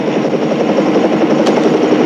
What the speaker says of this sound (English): Air 3, get that chopper out of here.